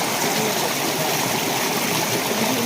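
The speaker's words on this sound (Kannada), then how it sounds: "ನೀರು ಬರ್ತಾ ಉಂಟು." Water flows steadily in a stream at night during a crab hunt, a continuous, even rush and trickle that stays at the same level throughout, with no voices.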